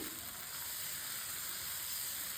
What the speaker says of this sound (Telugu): ఇలా దోశ పెనం పెట్టేసేసుకొని వేడయ్యాక మీరు నార్మల్ దోశ ఎలా వేసేసుకుంటారో అలానే వేసేసుకొని స్ప్రెడ్ చేసేసుకోండి